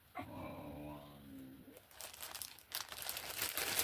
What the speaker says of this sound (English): And the dog's going a bit nutty.